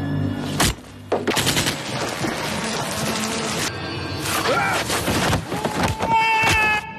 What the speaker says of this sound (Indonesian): Tembakan demi tembakan dilepaskan, namun tak satu pun mengenai dirinya.